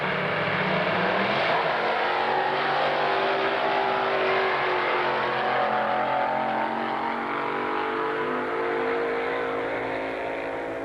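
A twin-engine drag racing car at the 1991 Firebird drag strip event roars loudly and continuously, its engines droning steadily for about eleven seconds with a shifting pitch.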